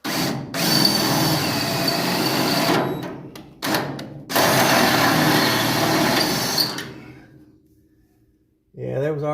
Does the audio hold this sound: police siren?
no